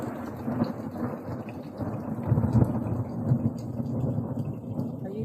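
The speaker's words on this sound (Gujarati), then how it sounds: "તો ભાઈ હજી તો વરસાદ આવે જ છે રહેવાનું નામ લેતો નથી" Heavy rain falls steadily during an unseasonal storm in a village, with deep rolling thunder rumbling underneath, loud and close throughout.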